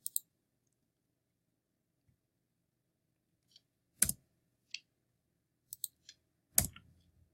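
Sparse, sharp mouse clicks, some in quick double pairs, sounding close and isolated against near silence while working through a spreadsheet program.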